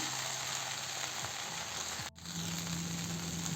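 Okra cooked with gram flour frying in a pan, a soft continuous sizzle heard close, briefly dipping once before resuming.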